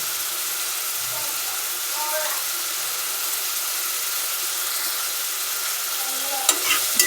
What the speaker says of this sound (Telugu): ఆనియన్ వేగినాక కొంచెం పసుపు వేసుకోవాలి.